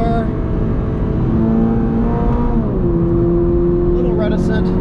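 A 2022 Toyota GR86 downshifts on a race track: a loud, continuous engine drone whose pitch drops partway through, then settles at a new steady tone, with a voice talking over it.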